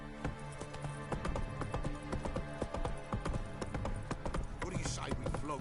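Roach the horse from Witcher 3 clip-clops at a gallop in a steady rapid rhythm of hoofbeats, close by, with game music and ambience layered underneath.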